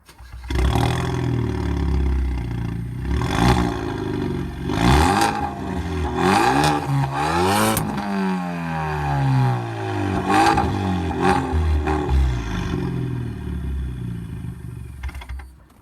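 A 2013 Hyundai Veloster Turbo with a straight-pipe exhaust revs repeatedly, loud and raspy with harsh, crackling exhaust, rising and falling through several sharp throttle blips close up.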